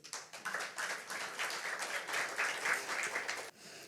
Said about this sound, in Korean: 다시 한번 박수 주십시오.